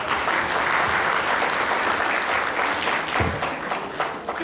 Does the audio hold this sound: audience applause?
yes